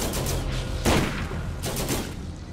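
Bursts of gunfire and explosive blasts from the Borderlands co-op shooter, with a loud burst near the start and another later, over a constant game soundscape and no talking.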